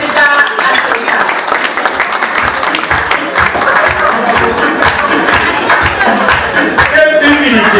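Church congregation applauding during a thanksgiving Mass, a dense continuous wash of clapping that stays loud throughout, with voices talking and music-like tones mixed underneath.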